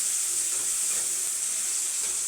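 Food fries in a hot pan with a steady, even sizzle, a loud bright hiss holding constant from start to finish with no voices.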